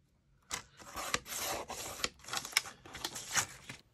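Paper being trimmed for a Victorian paper cloche craft, close raspy cutting and rubbing strokes in short bursts, quiet and alone.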